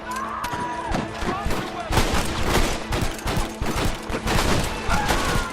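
Gunfire in a Red Dead Redemption shootout, loud close bursts of rifle and pistol shots cracking in rapid irregular volleys, with shouting voices mixed among them.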